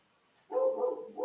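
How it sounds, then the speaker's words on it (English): Dogs bark outdoors in a short, loud volley, a close yowling bark that swells and then dips before rising again, over a steady faint background tone. "my dogs are a little rowdy out here for something"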